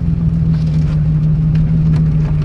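A Jeep JK fitted with Toyota axles idles and revs in a steady, loud, low rumble heard up close, with no talking.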